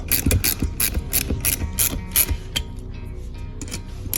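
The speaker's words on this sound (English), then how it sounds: "Then you can use a 7/16 ratchet wrench or a regular open-ended box wrench like we have as well." A 7/16 ratchet wrench ratchets while tightening a fog light bolt on a Ford Bronco stock bumper: rapid clicking bursts in short strokes, close and clear, fading into quieter clicks.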